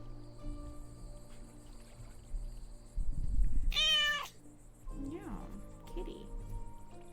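A house cat meows in a brief rising call amid low room noise, with people talking nearby before and after it.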